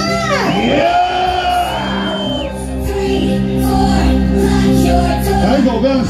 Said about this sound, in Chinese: 先给陈绩贞找一个最热烈的尖叫声